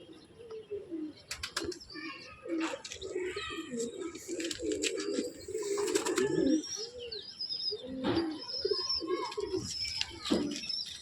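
Two male Madras pigeons at a home loft give repeated soft, rolling coos in a close, continuous series, mixed with occasional sharp chirps and faint flutters.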